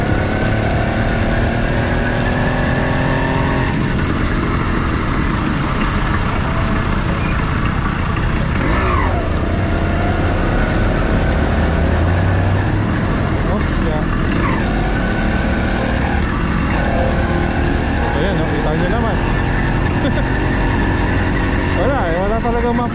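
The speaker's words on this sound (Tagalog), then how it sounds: "Yan, maraming kotse, maraming jeep." Continuous road traffic with car and jeep engines rumbling and idling nearby, vehicles passing steadily, and a person talking over the noise.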